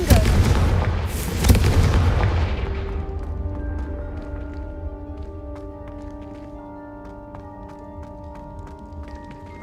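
Confringo spell blast in the Hogwarts Legacy video game, two heavy booming explosions at the start fading into a lingering resonant tail with faint sparkly ticks and tones.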